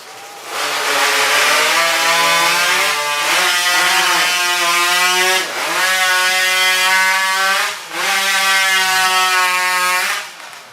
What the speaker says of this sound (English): his saw stopped midway on the second cut upwards